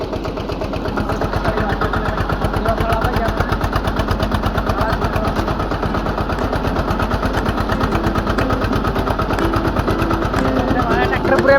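A tractor engine runs steadily and close by, its rapid, even chugging pulses holding a constant loud level for about twelve seconds.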